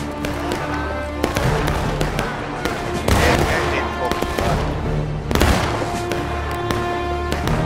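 Musket volleys crackle across a War of Rights battlefield, a steady clatter of distant and nearby shots with several sharp, loud cracks standing out from the rolling fire.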